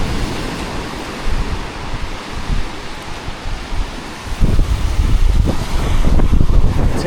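Sea waves at Hideaway Island, Vanuatu, washing in close with uneven surges and gusty wind noise, growing louder and heavier in the second half.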